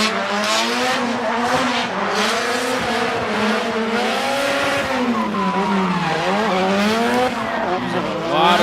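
Nissan S14 drift car driven hard on the throttle during a qualifying run at Okuibuki Motorpark, Shiga, its engine wailing loudly and steadily with rising and falling pitch, tires squealing, heard close up throughout.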